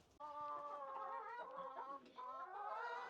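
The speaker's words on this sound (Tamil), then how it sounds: "கோழி ஒரு சேவல்" A rooster crows loudly and close by in a home vegetable garden in Jaffna, in one long, drawn-out call with a brief break, then carries on.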